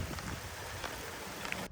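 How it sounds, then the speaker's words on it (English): Rain falls steadily outdoors in a constant dense patter and hiss, with a few slightly louder drops standing out; no voices are heard. "It's officially raining."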